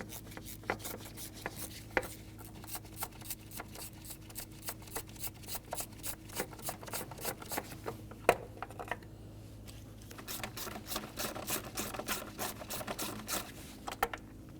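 A ratchet tool unscrews intake manifold bolts on a 2002-2005 Ford Explorer, giving a long run of fast, even clicks that pause briefly and then resume, close and moderately loud.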